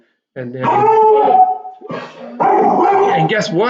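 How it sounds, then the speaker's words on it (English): A hound dog barks and howls in drawn-out, pitched bursts indoors, close and fairly loud, heard in two stretches with a short pause between them, while a person talks over and between the dog's cries. "She's a hound dog."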